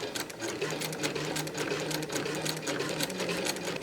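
A sewing machine stitches steadily and closely, sewing through tape on a foundation paper-pieced tulip potholder, its needle working in a fast, even rhythm with no pauses.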